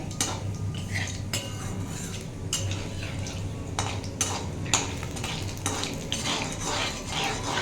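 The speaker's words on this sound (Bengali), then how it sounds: "ওই তেলের মধ্যে আমি একটু শুকনো লঙ্কা একটু তেজপাতা একটু পাঁচফোড়ন দেবো ফোড়ন হিসাবে ফোড়নটা আমি একটু ভালো করে ভেজে নেবো" Dried red chillies, bay leaves and panch phoron spices fry in oil for a tempering, a constant close sizzle under repeated sharp clinks and scrapes of a metal spatula against the pan, no voices.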